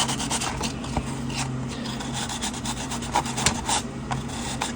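A wooden resonator guitar body is sanded by hand with steady, close, scratchy rubbing strokes in a fast rhythm, continuing throughout without speech.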